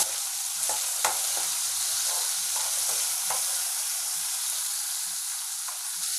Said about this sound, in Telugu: టూ టమాటోస్ ఒక ఆనియన్ రెండు పచ్చిమిరపకాయలు ఇవి వేసేసి మంచిగా కలిపేసుకోవాలి ఒకసారి